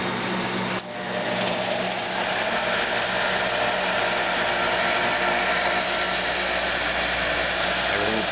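A Harbor Freight bench grinder on a stand spins up after a brief click, then holds a steady close motor whine and hum with no talking.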